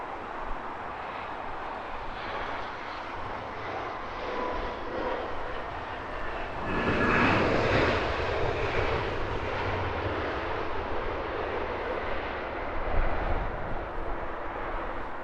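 Airplane arriving at Heathrow Airport, a broad jet engine roar that swells noticeably midway as the aircraft passes nearer, then settles into a sustained rumble with a brief louder surge near the end.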